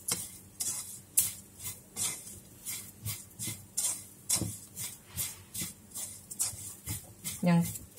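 Coconut being dry-roasted in a pan, stirred with a utensil in steady repeated scrapes and taps about twice a second, close and clear, with a little sizzle and no talk during the clip.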